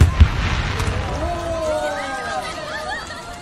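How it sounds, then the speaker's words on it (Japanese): Fireworks go off with a thump at the start, followed by whistling streaks rising and fading, amid steady crowd chatter. "花火まだ終わってないのに。"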